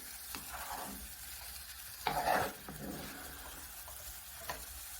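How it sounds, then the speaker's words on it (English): Mango dessert mixture thickened with cornstarch being flipped and fried in a pan, a soft steady sizzle broken by a few scraping spatula strokes and one louder slap of the mixture. "as you flip, and it's not sticking to the pan as much as it was before"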